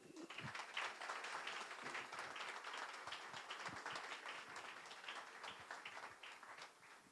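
An audience at an evening parranda event in Telde, Gran Canaria, gives steady applause, a soft, distant wash of many hands clapping that continues evenly for several seconds.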